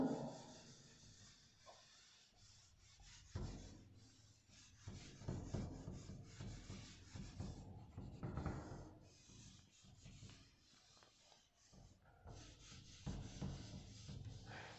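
Rubbing and scraping from a board being erased by hand, irregular strokes of moderate loudness with brief pauses, heard alone without talk.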